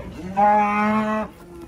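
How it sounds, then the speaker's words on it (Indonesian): A single loud moo from a giant cow being unloaded from a truck, a sustained low bellow lasting about a second, close by and heard alone. "Sapi unik ini"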